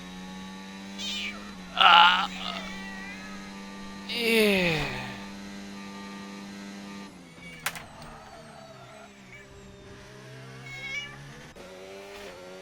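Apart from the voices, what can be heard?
domestic cat meowing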